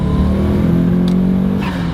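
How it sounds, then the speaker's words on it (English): Car pulling away in first gear with a slightly rough timing fault, the engine note rising steadily and loud throughout, a continuous close drone with a brief higher whine near the end. "We'll do a little first gear takeoff."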